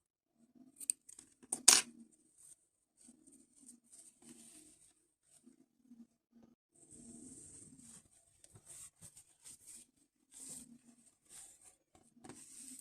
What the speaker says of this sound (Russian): И обрезаю ниточку.